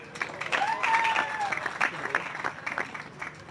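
Supporters in an archery crowd cheer and clap for a Slovenian archer at a recurve men's bronze medal match in Antalya, with bursts of applause, shouts and whistles swelling and fading over several seconds.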